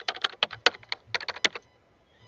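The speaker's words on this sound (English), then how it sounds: "I also do this simple outro right now" Rapid bursts of keyboard typing, a quick run of clicks and clacks that stops short and leaves near silence, used as an outro sound effect.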